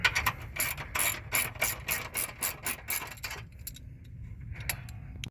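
A ratchet wrench fitted with a 10mm socket clicks rapidly in bursts while loosening the terminal nut on a 2007-2014 Dodge Avenger car battery, close and fairly loud, the clicking thinning out near the end.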